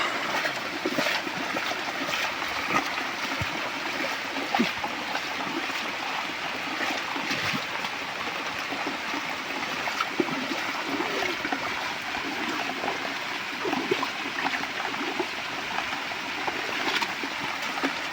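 Floodwater rushes through a turmeric field, washing away fertilizer, in a steady, unbroken flow, a broad watery roar that stays constant and fairly loud throughout.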